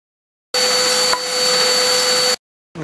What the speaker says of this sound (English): I'll get it out and rip them in the vertical bandsaw